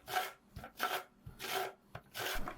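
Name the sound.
lemon being grated for lemon zest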